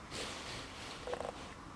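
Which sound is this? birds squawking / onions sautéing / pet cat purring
pet cat purring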